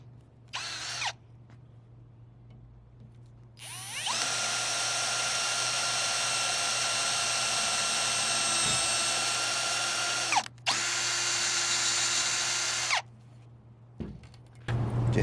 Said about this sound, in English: it drills a hole and then it threads the hole all in one bit, all in one motion.